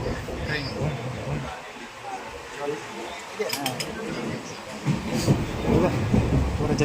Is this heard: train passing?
yes